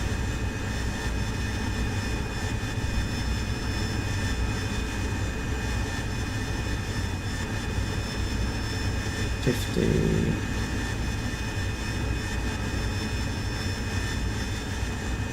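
Harrier jet in DCS World flying slowly at about 60 knots in a near-hover, its engine a steady loud roar with whining tonal layers and a brief thump partway through.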